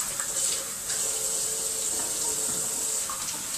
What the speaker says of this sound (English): every great chef knows that you always need to wash your hands